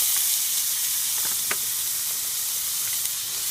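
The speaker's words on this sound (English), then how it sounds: "we'll get this stuff sauteed." Food sizzles steadily in a cast iron skillet over an outdoor grill, a close, continuous hiss with occasional faint stirring scrapes and no talking.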